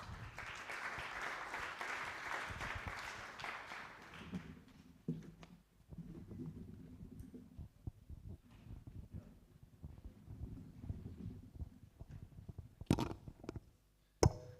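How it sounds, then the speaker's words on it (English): Conference audience applause for an ambassador at a climate and security conference in Berlin, a brief burst of clapping at the start that fades after a few seconds into low rumbling room noise and faint movement. "A round of applause for Ambassador."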